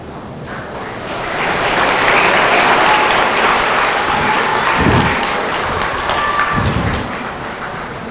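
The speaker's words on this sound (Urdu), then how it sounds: "دیکھیے یہ جو تالیاں بج رہی ہیں" Audience applause at an Independence Day gathering, a dense, loud patter of many hands clapping that builds quickly, holds steady, then thins slightly toward the end.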